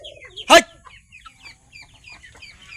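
On a farm keeping ducks and chickens together, a chicken gives one loud close squawk, followed by softer scattered clucks and chirps from nearby birds.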